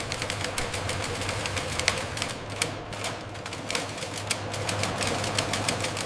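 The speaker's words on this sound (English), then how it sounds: "The sharp, distinct sound of typewriter keys striking paper." Typewriter keys strike paper in a quick, irregular clatter of sharp clicks that runs steadily throughout, fairly faint and without voices.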